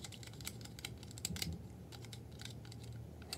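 A thin screwdriver scrapes dust out of the motor of an old-mechanism Plarail toy train, making a series of small, faint, irregular clicks and ticks close up.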